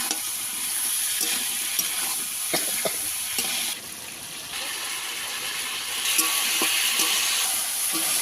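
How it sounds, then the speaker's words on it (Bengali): Malabar spinach sautéing in a pan with a little spiced water hisses and crackles steadily, with intermittent stirring knocks and a brief quieter dip midway. "রাখা পুঁই শাক দিয়ে ভালো করে কষিয়ে নিতে হবে"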